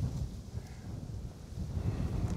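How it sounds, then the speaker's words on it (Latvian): Wind gusts buffet the microphone on a riverbank of the Lielupe during winter fishing, a continuous low rumbling roar with no talk. "Vējš vēl pūš."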